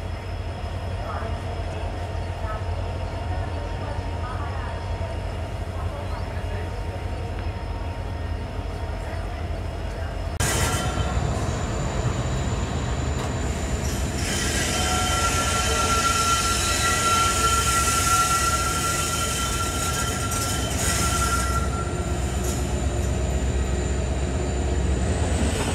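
Passenger train running from Parbhani to Nanded, a steady rumble of rolling rail noise that grows louder and busier partway through, with a faint voice now and then.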